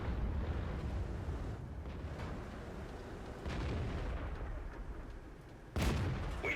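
A tank cannon fires in a World of Tanks battle, a low rumbling boom followed by another sharp blast near the end, over continuous engine-like battlefield noise with no speech.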